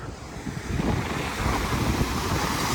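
Steady, rushing wind noise buffets the microphone on Panama City Beach, with a low, continuous roar like surf underneath, holding at a fairly even level throughout.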